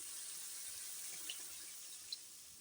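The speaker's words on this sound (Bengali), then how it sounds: "এই যে এখন তো দিয়ে দিই আমি জল" Water streams faintly and steadily into fish curry masala for a rohu fish dish, a soft continuous pour with a couple of tiny drips or clinks.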